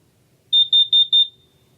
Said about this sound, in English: down here we have your carbon monoxide propane alarm